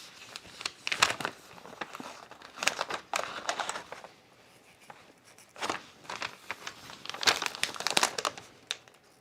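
Paper sewing pattern for pajama pants folded and crinkled by hand, a run of crisp rustling bursts and crackles close by, separated by brief quiet pauses.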